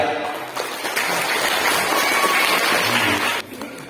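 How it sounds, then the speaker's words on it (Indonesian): Audience applause at a thanksgiving event after a kindergarten children's rebana frame-drum performance, a broad steady wash of clapping for several seconds that drops off near the end. "Kita tepuk tangan yang meriah."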